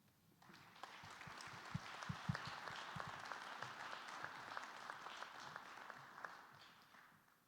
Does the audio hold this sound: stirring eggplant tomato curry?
no